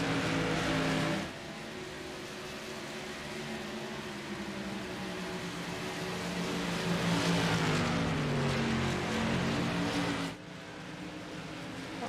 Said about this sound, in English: You hear that car sputtering. That car is out of fuel,